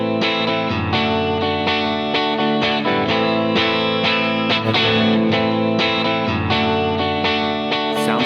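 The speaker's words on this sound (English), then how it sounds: "you're actually missing a whole beat at the end of your loop" Looped electric guitar chord progression from a looper pedal, played with effects and drive, repeating steadily and loudly; the loop's timing slips, jumping forward a beat at the loop point.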